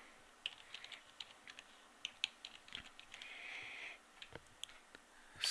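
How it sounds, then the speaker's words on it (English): Soft, quick clicking of keys on a computer keyboard while a domain name is typed in, a faint irregular patter of taps with short pauses between bursts. "Type in our domain name, password protected."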